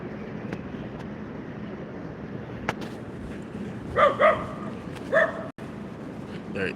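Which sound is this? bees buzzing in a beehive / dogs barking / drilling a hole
dogs barking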